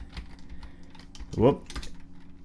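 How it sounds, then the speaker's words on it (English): Rapid clicking keystrokes on a computer keyboard, typed steadily through the whole stretch, with a brief voiced sound from a person partway through. "Yes, I suck at typing."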